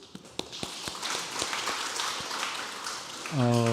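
A church congregation applauds children who won awards at a children's contest: a spread of clapping with a few sharp claps near the start, then a sustained tonal sound, like music or a voice, rising at the end.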